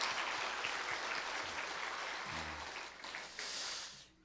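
A church congregation applauds during a Sunday worship service to welcome the education department, from kindergarten through middle and high school students, with steady, dense clapping that fills the room and fades out near the end.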